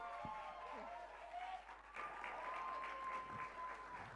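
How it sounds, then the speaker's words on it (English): An audience at a dance film festival awards night applauds, a fairly faint, continuous spread of clapping mixed with cheers and whoops, with voices talking over it. "Let's give them a big round of applause."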